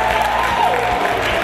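A crowd at an underground fight event cheering and applauding, a steady dense wash of claps and shouts filling the whole moment with no break.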